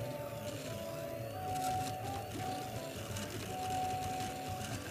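A Mini Kossel delta 3D printer printing: a continuous, faint mechanical whir with a steady motor tone that rises and falls gently as the head moves.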